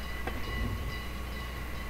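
A Hokuriku Railroad Ishikawa Line electric train bound for Nomachi, of the 1989 era with nose-suspended traction motors, runs as a faint, steady rumble, with one brief tonal whine rising from it.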